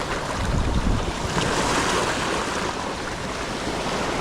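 Ocean waves surging and washing against slippery shoreline rocks at a rock fishing spot in Cayukno, a steady loud roar of surf with wind buffeting the microphone throughout.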